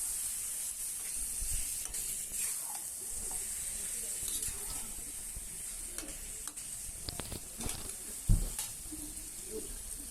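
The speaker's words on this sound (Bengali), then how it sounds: "এখন মশলাটার সাথে মাংসটাকে ভালো করে মিশিয়ে দেব।" Meat stirred into fried spice paste in a pan, a quiet sizzle under scattered scraping and clicking of the spatula, with one sharper knock near the end.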